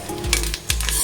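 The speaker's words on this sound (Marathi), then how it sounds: "बघ कसं चटचट आवाज येतोय तीळ भाजताना" Sesame seeds roasting in a pan with coriander and cumin seeds, crackling and sizzling steadily, with two brief scraping stirs close by.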